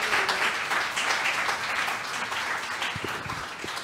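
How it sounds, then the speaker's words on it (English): Audience applause for authors at an island-themed literary event, a steady broad wash of clapping that holds for several seconds at even strength, with faint voices mixed in. "Please give them a round of applause to thank them."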